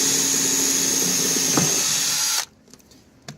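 Power drill boring into aluminum while installing a Qwest Avanti LilliPad diving board; loud, high, steady whine running close for over two seconds, then cutting off abruptly into near silence.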